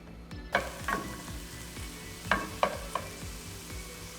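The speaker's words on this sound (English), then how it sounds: "Caramelize the onions." Onions cooking in butter or oil in a frying pan, a steady low sizzle with several sharp scraping clicks of a utensil stirring them, close by with no talking.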